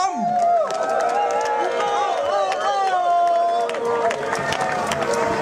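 A crowd cheering at an SPD rally, a dense, continuous roar of shouting voices mixed with babble throughout, with a speaker's voice cutting through on top.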